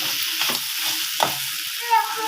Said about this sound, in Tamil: எல்லாத்தையும் போட்டு நல்லா வதக்கிடலாம்.